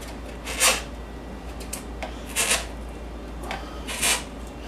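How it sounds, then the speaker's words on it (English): Prying apart a Ram 1500 headlight to break the butyl sealant loose produces three short, scraping, rasping bursts spaced a couple of seconds apart over a quiet background hum, with no talk. "Breaking the butyl loose"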